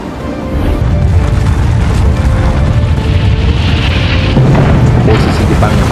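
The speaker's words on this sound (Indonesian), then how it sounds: "sekutu menjatuhkan bom atom di Hiroshima" Atomic bomb explosion over Hiroshima, 1945: a loud, sustained roaring rumble that swells in and holds for several seconds, broad and heavy with no distinct separate blasts.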